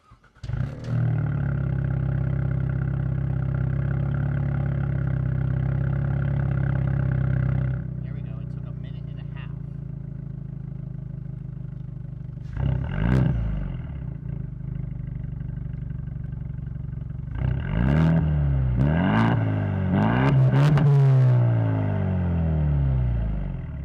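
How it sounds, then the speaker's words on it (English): A 2024 Ford Mustang EcoBoost turbocharged engine starts and idles with a deep steady hum, then revs sharply several times by remote, the pitch climbing and falling with each burst. "I'll go ahead and fire it up and show you guys how the remote rev works"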